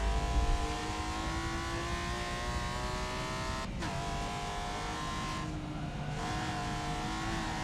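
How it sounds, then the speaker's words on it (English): A race car engine in Forza Motorsport drones at high revs through a flying lap, with smooth rising pitch, a quick gear-shift dip and steady loud in-car sound without talk. "So let's get set up here for a nice clean flying lap."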